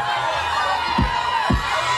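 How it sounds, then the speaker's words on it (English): Festival crowd in a park cheering and screaming as a broad, sustained roar, with a few deep thumps from the stage cutting through the noise. "Ladies and gentlemen, scream and cheer for House Woman!"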